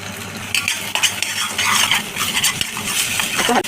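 Ground spinach and masala are stirred in a pan, with close scraping and clinking of a spoon against metal over a soft sizzle and uneven stirring strokes.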